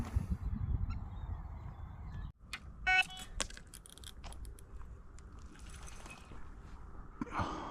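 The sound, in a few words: birds calling near a fishing lake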